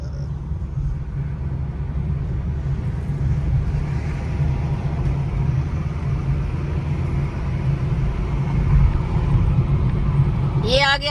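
Car cruising along the Delhi–Mumbai Expressway, a steady low road and engine rumble that fills the whole stretch, with a voice talking faintly over it.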